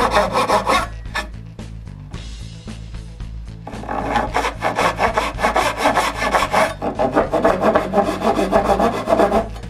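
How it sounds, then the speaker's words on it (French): A fine-toothed hand saw cuts angled dovetail lines in wood for dresser drawers, with steady rhythmic rasping strokes up close that pause briefly, then resume faster and louder. "avec une scie à dents fines, je coupe en angle sa ligne en essayant de ne pas dépasser des marques du trusquin"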